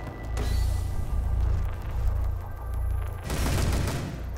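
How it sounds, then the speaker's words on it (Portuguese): Gunfire in the video game Rainbow Six Siege, a dense burst of rapid shots lasting most of the moment, breaking briefly near the end and then resuming loud and close with a booming low end. "três tiros no quadril"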